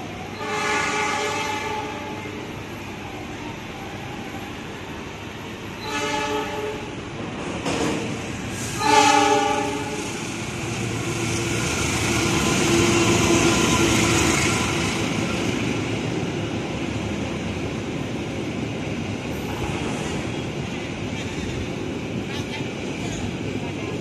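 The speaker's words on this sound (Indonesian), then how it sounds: "dari arah Gambir melintas langsung kereta api Argo Parahyang" Argo Parahyang express train speeding straight through a double-track station, with repeated loud horn blasts early on followed by a swelling roar of passing carriages that slowly fades, voices talking faintly over it.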